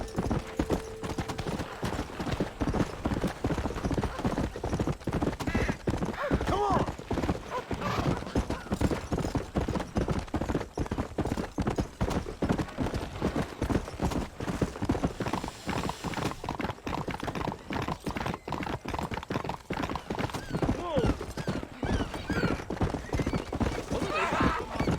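Horse hooves clip-clop in a fast, steady gallop throughout in the Western video game Red Dead Redemption, with a horse neighing early on and faint voices under the continuous hoofbeats.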